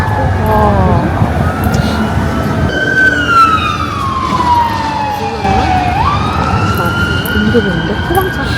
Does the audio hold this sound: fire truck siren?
yes